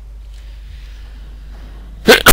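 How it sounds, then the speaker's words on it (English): Near the end of an otherwise quiet stretch, a person lets out one sudden, loud sneeze close to the microphone. "Sorry about the sneezing."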